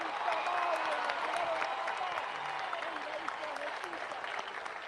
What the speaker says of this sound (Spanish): Fuerte el aplauso, señores, fuerte el aplauso.